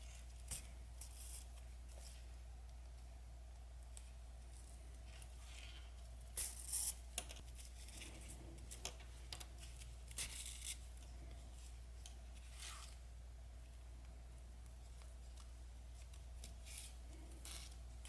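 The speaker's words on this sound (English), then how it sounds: "come around and continue to sew that flap from underneath" Hand-stitching a leather chapstick holder: faint, scratchy rubs and soft tugs as thread is drawn through the leather, spaced irregularly over a steady low hum, with one brief louder rasp partway through.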